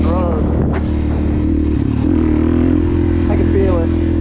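A 2020 Suzuki DRZ400 SM supermoto with a Yoshimura exhaust rides along a beach road at night, its single-cylinder engine droning steadily close up with small rises in revs while a rider talks over it.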